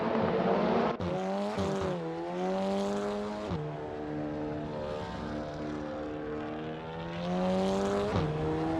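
Race cars driving on a track, a loud continuous engine whine that rises and falls as the cars shift and pass, close and dominant with no talk over it.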